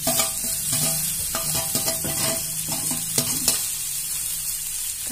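Tomatoes sauté in a pan for mutton kulambu, sizzling steadily while a spatula stirs and scrapes in irregular strokes close by, with no voices.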